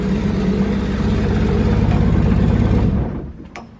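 A Nissan RB25DET engine idles roughly and misfires, its uneven low rumble loud and close for about three seconds before cutting off abruptly, leaving faint rattles.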